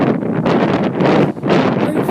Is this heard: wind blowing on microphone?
yes